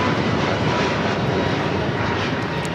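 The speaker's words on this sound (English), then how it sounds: "This is Lufthansa 452 coming in from Munich on the A380." Lufthansa Airbus A380 arriving from Munich on approach to land at LAX, a loud, steady broadband jet roar that holds constant throughout with no voices.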